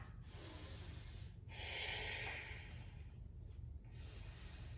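Slow, steady Ujjayi breaths drawn through a constricted throat during a vinyasa yoga flow, each inhale and exhale carrying a soft, hissing snore-like rasp, close and quiet with no talking.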